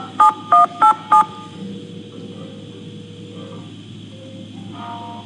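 Four evenly spaced touch-tone beeps dial a phone number in the Nancy Drew: Alibi in Ashes game, loud and clear over a low hum, followed by quiet line noise and a faint tone.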